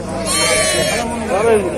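Lambs bleat repeatedly at an outdoor sheep market in Füzuli, Azerbaijan, where male lambs are being sold; the calls are close and loud, overlapping with the murmur of people talking nearby.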